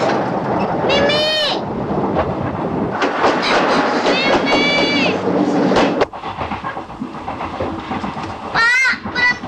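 A train clatters past on the rails with repeated rhythmic clacks and bursts of a high whistle or squeal, loud and close, while people talk and call out over it.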